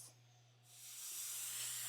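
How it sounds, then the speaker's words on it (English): Steam hisses steadily from a pressure canner's vent, a faint start that swells into a continuous, even rush of venting steam with a low hum beneath. "if you don't have experience with a pressure canner, is for a steady flow of steam to come out"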